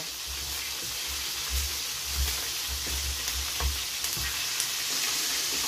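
Carrots and cabbage frying in a pan for pancit bihon, a steady hiss of sizzling oil with low thumps and scrapes from stirring throughout, close and with no talking.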